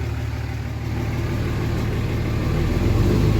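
A work truck's diesel engine running with a low, steady rumble that builds slightly as it revs, close and loud with no talk.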